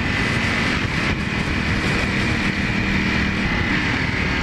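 Sustained, loud engine roar from a Ducati Panigale V4 sport motorcycle with a V4 engine, a steady mechanical drone with wind noise running continuously throughout, no talk.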